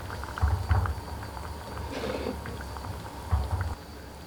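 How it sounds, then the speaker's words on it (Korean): Tofu doenjang stew with green onion, garlic and chili bubbling in a pot, a soft crackling simmer with low rumbling bursts and no talk. "여기서 한 5분만 끓여주세요."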